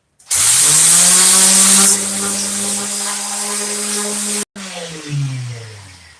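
An orbital sander sanding cabinet drawers whirs to life with a steady motor hum and buzzing vibration, dipping in pitch partway, briefly cutting out, then resuming close by.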